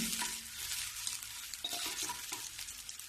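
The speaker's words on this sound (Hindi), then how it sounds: "हल्की सी मैं भूंज रही हूँ जिससे ये कच्चा ना लगे" Chopped onions fry lightly in a pan with a steady soft sizzle while a spoon stirs and scrapes them in short repeated strokes, close up.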